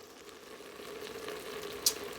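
Sausages sizzle and fry in a pan for spaghetti, a steady close crackle with faint stirring and one sharp click near the end, no talk.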